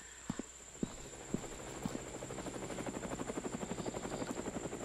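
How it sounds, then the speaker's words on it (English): A video game helicopter flies overhead as a steady, dense rotor chop that builds into an even rhythmic thumping, with a few sharper knocks early on. "The helicopter doesn't seem to be doing anybody any good."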